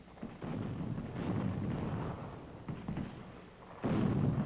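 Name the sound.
French artillery bombardment of Toulon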